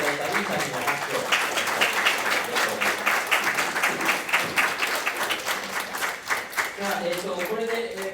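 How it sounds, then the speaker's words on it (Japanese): A seated seminar audience claps for an interpreter, sustained even applause from a crowd filling the room for several seconds, with a brief murmur of voices as it tapers near the end. "通訳をしていただいたリンさんにも拍手を"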